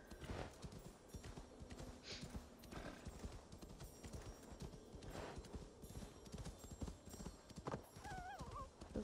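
Assassin's Creed Valhalla: steady rhythmic hoofbeats of a galloping horse, dense and continuous, with a brief whinny near the end.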